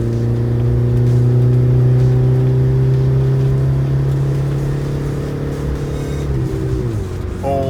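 A 1994 Mitsubishi Minica Toppo kei car with a 660cc engine and an uncorked exhaust accelerates with a buzzy, steady engine note. Near the end the pitch drops at a gear change and then climbs again.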